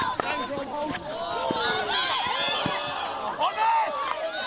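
Supporters on the sideline of a New Zealand Māori hockey quarter final cheer and call out for their Tāne team, a steady mid-distance crowd roar with scattered shouts, mixed with a commentator's voice talking over it.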